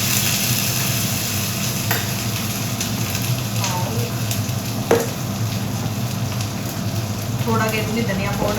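Green chillies sizzle and spit in hot oil in a home kitchen pan, with steady frying crackle and occasional scraping stirs throughout, fairly close.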